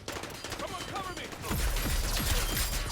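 Gunfire in the shooter game Concord starts midway as a rapid burst of repeated shots after quieter game noise, loud and close, with no talk over it.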